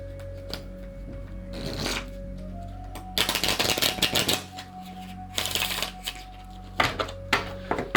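A deck of playing cards being riffle shuffled by a learner, with crisp fluttering bursts of card flicks separated by pauses, plus softer handling clicks and taps close up.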